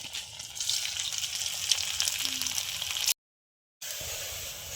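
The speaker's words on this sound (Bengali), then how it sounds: "একটু লাল লাল করে ভেজে নেব।" Flattened rice (chira) pulis fry steadily in a pan, a continuous loud sizzle with no talk, cut by a brief silent gap before the frying resumes.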